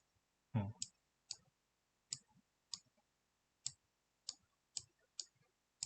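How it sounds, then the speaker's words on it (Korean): A computer mouse clicks about nine times at an uneven pace, each a crisp, quiet, close tick in an otherwise near-silent room, with one soft low bump near the start. "색깔로 요거 클릭 한번 해볼게요"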